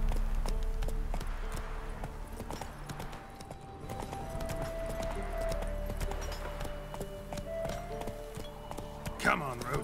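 Roach the horse gallops in The Witcher 3, hooves clip-clopping in a steady fast rhythm throughout, under background music with a brief voice near the end.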